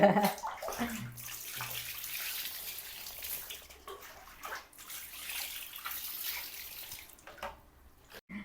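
Water splashes and sloshes softly while a baby is bathed in a small tub, with intermittent pouring and dripping, faint and close, with no talk.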